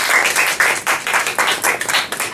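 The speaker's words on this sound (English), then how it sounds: "the big round of applause to Toastmaster Guang." Audience applause at a Toastmasters club meeting, a dense, continuous patter of many hands clapping close by, holding steady for a couple of seconds with no talk over it.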